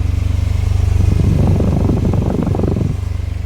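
Idling Honda Silver Wing 600 scooter from 2002 rumbles steadily with a low throb, then rises into a short rev of about two seconds before dropping back to a smooth idle, close and loud throughout.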